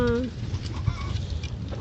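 A chicken clucks close by inside a backyard coop, a few short throaty clucks and a brief higher call over soft scratching and rustling.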